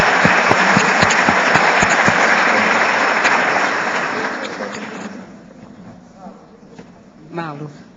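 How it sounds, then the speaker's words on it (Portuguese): A crowd gives a loud round of applause, dense clapping with a few sharp near claps that fades out after about five seconds, followed by faint room noise and a brief voice. "Eu queria que vocês dessem uma salva de palmas para Manuele Fritzen"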